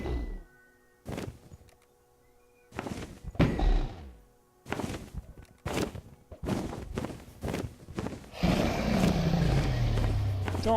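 Shots fired at the Ender Dragon in Minecraft land as a string of separate, close, dull thunks spaced unevenly across the stretch, followed by a loud, sustained rumbling roar at the end.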